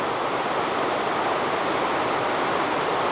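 The Narcea River runs through the Asturian mountains as a steady, dense rush of flowing water, close and unbroken, with no voices over it.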